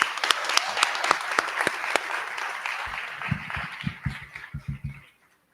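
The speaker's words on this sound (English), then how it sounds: "Let's give our governor another round of applause." Applause for a state governor at a ribbon-cutting ceremony, a crowd clapping close and steady before it thins into a few scattered claps and then stops.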